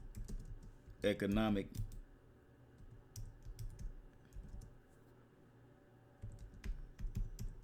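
Someone types a search on a computer keyboard in quick bursts of clicky keystrokes close by. A short spoken word interrupts near the start, and the typing pauses, then resumes.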